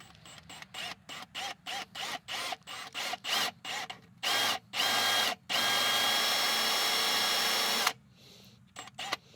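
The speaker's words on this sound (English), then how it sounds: "we can go ahead with our piloted chamfer bit and go ahead and cut that seat for the insert to sit on" Piloted chamfer bit cutting a seat for a Time-Sert thread insert in a stripped timing belt idler pulley bolt hole on a Subaru Forester, heard as a series of short drill bursts growing longer, ending in one sustained run, with no talking.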